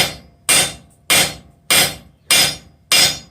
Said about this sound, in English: this is inch stock, 1 inch round, and this is a 1 3/4 pound hammer